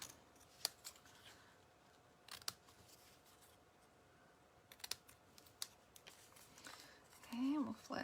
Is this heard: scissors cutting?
yes